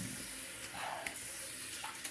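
Tap water runs steadily into a sink while someone rinses off after a shave, a close continuous wash of splashing with a few small knocks and no talk.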